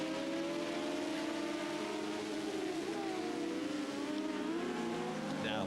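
A TT F1 superbike engine drones at around 130 mph on a straight, a steady high-pitched howl held throughout, faint and even with slight pitch shifts.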